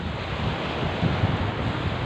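Sea waves rolling in at a beach on an overcast afternoon, a steady broadband surf roar mixed with wind buffeting the microphone, constant and close, with no talking.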